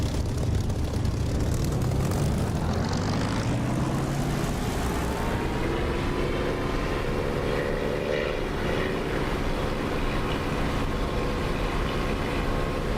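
A propeller warplane in the DCS flight simulator runs up to full throttle for takeoff, its loud engine drone climbing steadily in pitch and staying constant and close throughout, with no voices.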